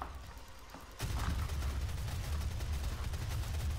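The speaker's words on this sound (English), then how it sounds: "Chain gun, lots of ammo." The chain gun in the video game DOOM opens up about a second in, then fires in a sustained, rapid, rattling stream that keeps going without a break at a modest level.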